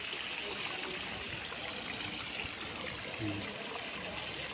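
Spring water flows and trickles steadily nearby at a resort in Liliw, Laguna, a constant gurgling wash with a single short spoken word over it.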